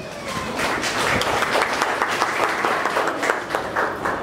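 An engagement audience breaks into hearty applause, a dense, fairly loud wash of many hands clapping that holds steadily for several seconds with a lively, crowded texture.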